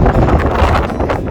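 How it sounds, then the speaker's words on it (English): Strong breeze buffets the microphone on a sunny mountain summit on the Aonach Eagach ridge near Bridge of Orchy, Scotland, making a steady, loud, rumbling wind roar through the whole moment without any talk. "It's a bit breezy."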